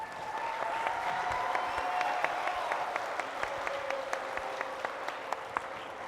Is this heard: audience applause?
yes